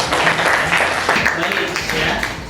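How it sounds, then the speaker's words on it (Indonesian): Classroom applause for a student, a short burst of dense clapping from a group in a school lesson, steady throughout with a voice speaking over it. "tepuk tangan juga buat Alwi"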